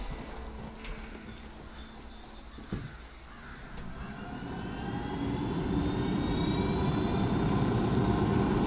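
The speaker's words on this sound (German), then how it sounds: "Dann nehmen wir den Heli hier einfach und dann fliegen wir dahin." Helicopter in the video game Ghost Recon Wildlands lifting off and flying, its engine and rotor whine building from a low rumble into a steady, louder drone that fills the second half with no talking.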